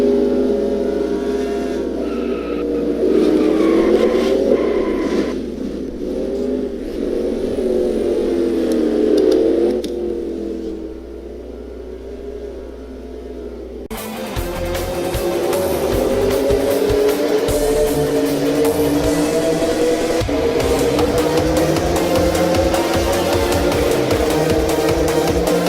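A race car engine in a NASCAR-style video game roars through a lap at Mexico City, a sustained, loud motor drone that rises and falls with shifts and throttle, cutting abruptly to a harsher, louder engine tone partway through.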